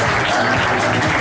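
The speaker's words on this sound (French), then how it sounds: "Lucas Mordomo, Thiago Pommier, On les applaudit très fort." An audience at a tennis club awards night bursts into loud, dense applause, a brief unbroken wash of clapping from a crowd.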